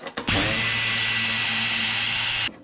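A power drill undoes the bracket bolts on a cheap old truck, giving a short whir as the trigger is tapped, then a steady high-pitched spin lasting about two seconds before it stops.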